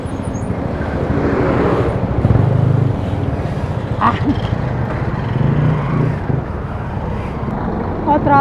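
Road traffic heard from a moving motorbike, with steady engine rumble, buffeting wind and passing vehicles close by, plus riders talking over the noise.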